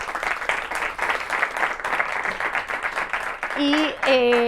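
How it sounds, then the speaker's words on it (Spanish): An audience at a Creative Mornings talk in Madrid applauds in a dense, steady wash of clapping, and a voice starts speaking over it near the end. "simplemente dar un aplauso a toda la gente que lo ha hecho posible, por favor"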